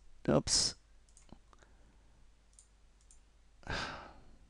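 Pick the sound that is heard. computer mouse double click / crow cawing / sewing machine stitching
computer mouse double click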